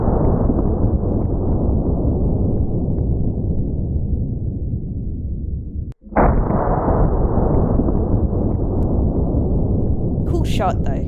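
A .950 JDJ Fat Mac rifle, a massive custom rifle, fires: a loud, continuous broadband roar dips briefly, then a single sharp, powerful report bursts in near the middle and carries on heavily.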